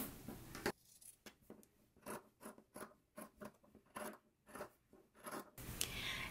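Scissors cut along the seam allowance of a stitched fabric collar in a run of about a dozen crisp snips, close and clear with short pauses between them, and no talk.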